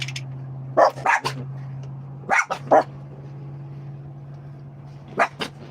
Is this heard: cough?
no